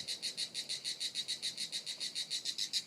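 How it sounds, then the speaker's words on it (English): Cicada singing in the south of France, a steady pulsing buzz in quick regular beats, faint and distant over soft background ambience. "a cicada singing in the background in the south of France"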